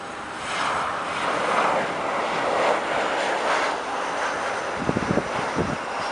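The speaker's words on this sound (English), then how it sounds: "it's a British Airways, bro." A British Airways airplane at night at Montreal Pierre Elliott Trudeau Airport gives a steady, broad engine roar with no voices over it. A few low thumps come near the end.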